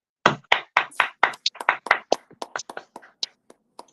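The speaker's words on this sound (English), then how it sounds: "Let's clap for that." A handful of people clap along on a morning radio show: a string of sharp, separate claps, first steady and close, then thinning into scattered, uneven slaps before stopping.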